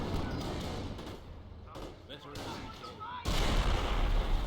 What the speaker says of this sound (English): And there goes the satchel charge.